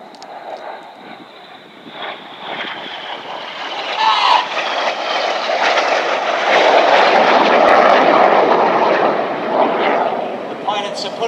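RAF Red Arrows jets of the synchro pair fly the carousel manoeuvre at an air display over Epsom College, a loud roaring jet rumble that swells and fades as they pass, with a commentator talking over it.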